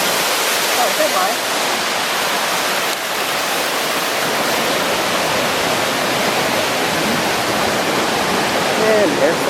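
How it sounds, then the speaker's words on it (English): A big waterfall at Plitvice National Park, Croatia, pours in a steady, loud, unbroken roar of rushing water that holds constant throughout. "And there's the beautiful waterfall."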